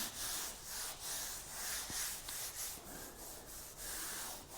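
A Dura-Block sanding block fitted with 120-grit paper scrubs over primed car bodywork on a Galant hardtop, a steady series of rhythmic back-and-forth rasping strokes, close and alone.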